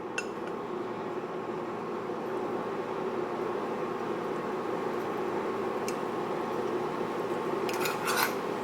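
A spoon stirs pre-cooked squash in a pot for a no-oil curry pasta, making a steady soft rubbing and scraping with a few light metallic clinks near the end, close and continuous.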